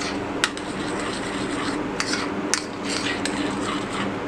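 Cream and coffee being mixed into melted chocolate: steady soft scraping and stirring with a few sharp clinks of a utensil against the bowl, no talking.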